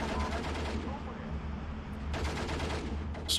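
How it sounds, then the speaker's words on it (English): A P-40 fighter's strafing run in the WW2 strategy game Steel Division 2: a dense, continuous rattle of machine-gun fire over a low rumble, steady for several seconds with a brighter burst near the end. "I can probably just P40 strafing run these"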